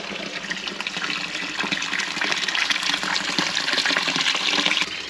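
Water from a newly fitted water feature pours steadily into a koi fish pond outdoors, a continuous splashing gush that stays fairly loud and even throughout, with no voices.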